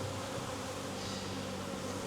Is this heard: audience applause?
no